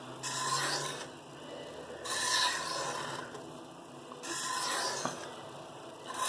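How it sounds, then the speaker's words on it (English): A CPM S110V knife edge is deburred on a coarse sharpening stone, giving three long, gritty rasping strokes roughly two seconds apart, close and steady with no talk. "It's hard to deburr on such a coarse stone, but we have to weaken that burr before we move on to the next step."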